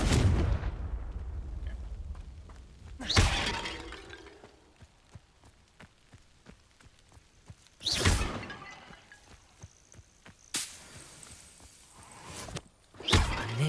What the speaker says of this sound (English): I think there should only be a few more vases. Confringo!